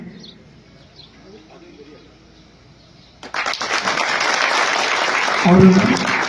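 Crowd applause erupts at a political rally, starting abruptly midway after a stretch of quiet background murmur and then swelling into loud, sustained clapping that continues to the end.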